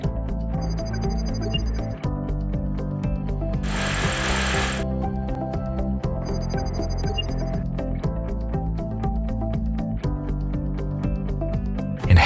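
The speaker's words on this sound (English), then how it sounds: "Follow the installation manual to drill holes." A power drill bores mounting holes into a wall for a Growatt UE series inverter, a steady loud close-up drilling drone running almost continuously, with a brief burst of harsher noise partway through.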